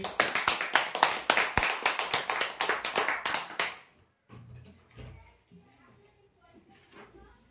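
An audience at a prize draw claps loudly for nearly four seconds, a dense run of sharp claps that then stops abruptly, leaving quieter room sounds and a voice speaking.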